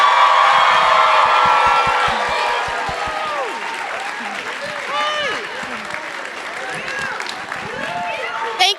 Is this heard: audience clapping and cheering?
yes